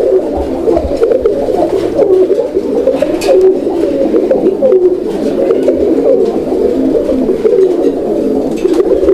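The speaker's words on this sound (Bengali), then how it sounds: "এই মাদি দিয়ে নরগুলোর ডাকগুলো দেখাইতেছে" Male pigeons of the Raj-Golla breed coo steadily on a pigeon farm, a dense overlapping chorus of low throaty calls close by that carries through the whole stretch without talk.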